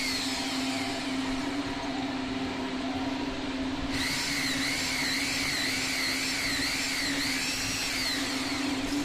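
An electric drill whines steadily while boring a hole during installation of a panic exit device in a construction setting. Partway through, the tone rises and wavers as pressure changes, and the sound stays loud and continuous with no speech.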